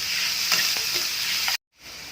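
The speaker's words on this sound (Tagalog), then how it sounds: "Haluin lang natin" Meat and mixed vegetables sautéing with garlic in a pan hiss steadily while a utensil stirs them with a few scraping strokes, then the sound cuts out briefly and the sizzle returns.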